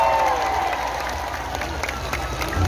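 Audience applause at an Islamic sholawat gathering in Taiwan: a steady, dense wash of clapping from a crowd that holds at an even level throughout, with a faint voice heard early on.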